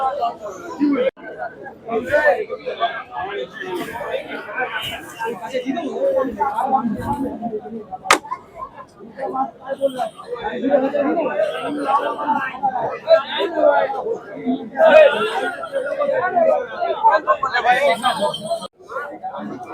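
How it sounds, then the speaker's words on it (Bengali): Dense crowd chatter at the Shyambazar pigeon market in Kolkata, many overlapping voices forming a loud, continuous babble close around. "পাবলিকের ভিড় রয়েছে।"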